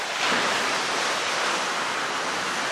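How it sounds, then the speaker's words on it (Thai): Ocean waves crash against layered rock cliffs at Fossil Bay in Tasmania, making a steady, loud roar of surf that carries on without a break or any voices. "ก็จะมีคลื่นน้ำกระทบแบบนี้นะครับ"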